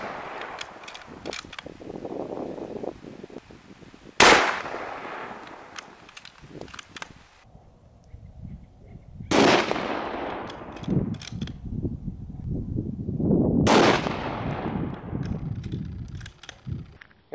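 .223 rifle rounds, 55 grain full metal jacket, fired outdoors into a packed snow wall: three sharp, loud cracks spaced several seconds apart, each trailing off in a long echo, with muffled handling noise between shots.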